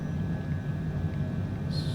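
Jet engine of an executive jet in Microsoft Flight Simulator 2020 during takeoff, a steady low droning rumble with a faint constant whine above it, and a brief high electronic tone near the end.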